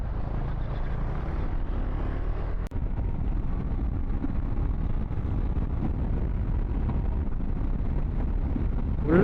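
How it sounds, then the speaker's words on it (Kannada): Cool wind rushes over the microphone of a moving motorbike on an open road, a steady loud low roar with one brief thump partway through and no talking. "ಒಳ್ಳೆ ಚಿಲ್ಡ್ ಗಾಳಿ, ತಣ್ಣ ಬಡಿತಿದೆ."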